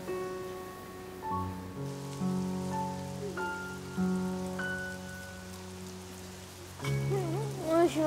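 Steady rain falls throughout against sustained tonal music with a low drone, an even wash of drops running under the melody from start to finish.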